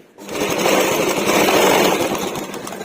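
A sewing machine stitches piping onto a Kalamkari blouse, running as a loud, steady whir with a fast, even mechanical pulse for almost the whole stretch, and no voices.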